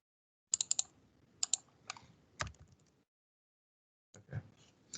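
Short bursts of keystrokes on a computer keyboard while correcting an SQL query, a few quick clicks, a pause, then a louder tap and a later cluster, close and dry against silence.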